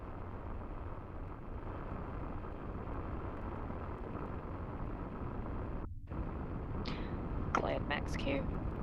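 Rocket Lab Electron's nine Rutherford first-stage engines burning during ascent past max Q, a dense steady roar with wind-like rumble, broken by a brief dropout and some faint higher transients near the end.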